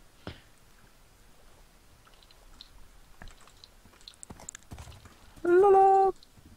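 Sparse clicks and soft hoof-like taps from a horse in the video game Minecraft, then a sharp tonal whinny near the end, all fairly quiet with no talking.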